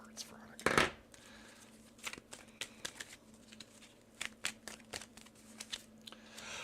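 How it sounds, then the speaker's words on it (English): Tarot cards being shuffled during a live reading, a run of soft papery riffles and flicks with one louder burst of card noise near the start, then quieter intermittent shuffling close to the mic. "I'm going to shuffle my cards, Veronica."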